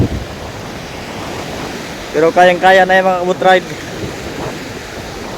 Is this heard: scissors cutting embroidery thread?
no